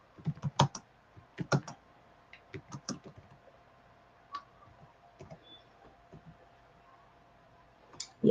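Scattered keystrokes on a computer keyboard, sparse irregular clicks in short bursts with pauses, fairly faint and close in a quiet room.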